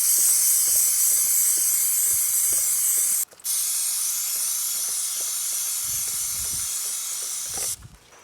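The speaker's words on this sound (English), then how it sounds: "I'm just going to spray it directly on as we're rotating the tire." A steady, close aerosol chain cleaner spray hisses continuously for several seconds onto a Kawasaki KLX 110 dirt bike chain as the wheel rotates, breaking off briefly once, with a few faint mechanical clicks underneath.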